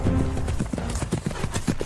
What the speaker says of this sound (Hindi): खड़क सिंह ने आवाज सुनकर घोड़ा रोक लिया